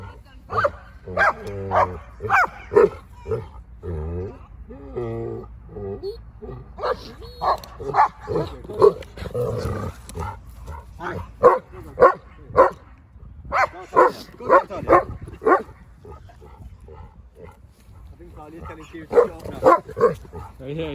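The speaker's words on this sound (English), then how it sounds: "So she's just warning Keira and just telling her, look, there's no need to bark" A Kangal dog barks in repeated sharp bursts, loud and close, trading barks with another dog amid steady human talk and encouragement throughout.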